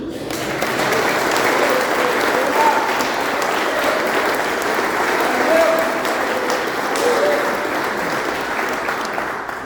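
A church congregation at a Methodist men's gathering applauds, dense sustained clapping filling the room at an even level for the whole stretch, no voices over it.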